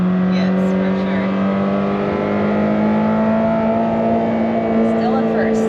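A Lamborghini Temerario's engine holds a loud, steady high-rpm wail near 7,000 rpm in first gear, its pitch rising slowly and continuously, heard close from inside the car with some faint voice underneath.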